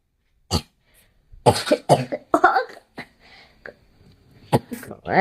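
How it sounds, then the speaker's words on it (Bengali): Several sharp coughs from a person eating soft-cooked meat a few days after a tooth extraction, bursting out in an uneven cluster near the microphone with brief pauses and faint murmuring between them. "কাশি"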